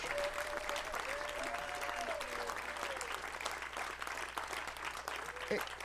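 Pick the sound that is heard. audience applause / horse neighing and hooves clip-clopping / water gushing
audience applause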